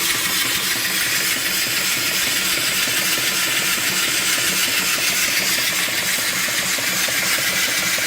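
A small mill steam engine driving an alternator, running steadily with a fast rhythmic chuffing and mechanical beat under a constant loud hiss, close and unbroken for several seconds, no talking.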